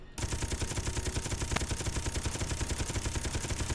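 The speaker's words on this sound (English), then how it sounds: "We're going to fire our Gatling gun" Rapid, steady rotary-barrel Gatling gun fire aimed at a station in the Space Engineers video game, a continuous loud rattling burst from start to finish with no pauses.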